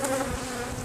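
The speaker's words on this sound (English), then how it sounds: "look at this bee already on me" Bees from a swarm, highly aggressive with the queen still in a tree, buzz loud and close in a steady continuous drone.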